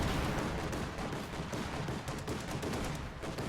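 Dense, continuous machine gun fire and other gunfire rattle without pause in a Company of Heroes 2 match, loud and busy throughout, with no talking.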